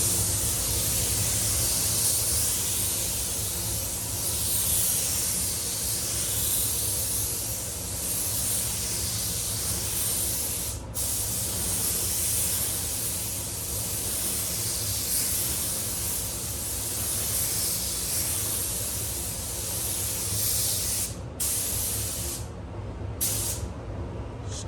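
A spray gun hisses continuously up close as a paint coat is applied to a BMW in a paint shop, a steady loud airy rush with brief pauses near the end.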